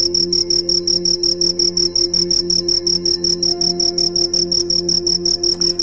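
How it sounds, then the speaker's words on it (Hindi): A cricket chirps in a fast, steady, shrill pulse with a high, piercing tone, repeating without pause, loud and close over a faint humming background. "झिंगुर की आवाज़ इतनी कर्कश होती है कि आप इसे बर्दाश्त नहीं कर सकते"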